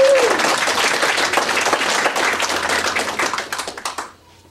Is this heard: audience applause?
yes